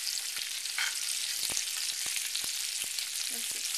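Bacon-wrapped salmon frying in a pan, a steady bright sizzle with occasional pops and light stirring knocks, close and continuous.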